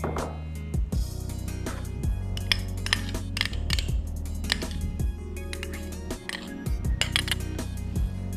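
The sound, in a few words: whisking custard sugar and softened butter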